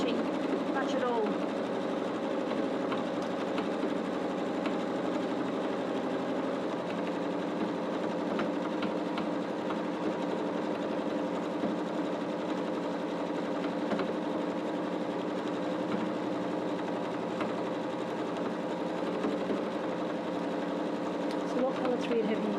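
A sewing machine runs without pause, stitching a soft woollen scarf with pink thread, a steady close mechanical hum and whir that holds even for over twenty seconds.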